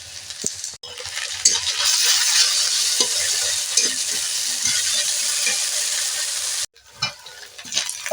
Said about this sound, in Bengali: পেঁয়াজটা ভাজা ভাজা হয়ে গেছে দিয়ে দেব এক চামচ রসুন বাটা